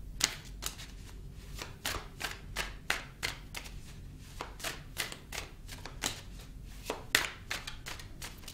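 Tarot cards are shuffled close up in a regular run of crisp, separate slaps and riffles, about two per second, fairly quiet against a still room.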